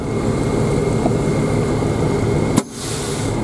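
A septic truck's engine runs with its power take-off engaged, giving a loud, close, steady droning rumble. A sharp click near the end is followed by a slightly thinner hum.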